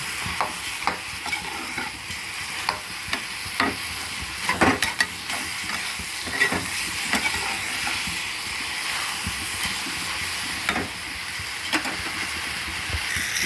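Mango pieces and eggplant fry in oil in a pan, with a soft continuous sizzle under repeated scraping stirs and light clinks of a spatula, fairly quiet and close.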